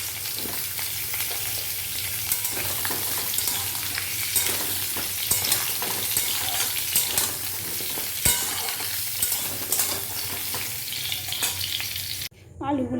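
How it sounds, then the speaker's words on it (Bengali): Potatoes fry in hot mustard oil in a wok, giving a loud, continuous sizzle with scrapes and knocks of stirring throughout. The sound cuts off abruptly near the end before a brief return. "এবার আমি আলুগুলো দিয়ে লাল লাল করে ভেজে নেব"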